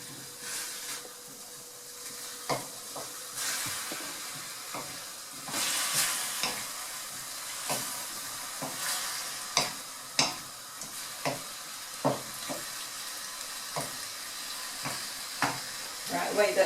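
Pork adobo being stirred in a frying pan, with a steady sizzle and repeated sharp clicks and scrapes of the spoon against the pan, close and moderately loud, with no talking.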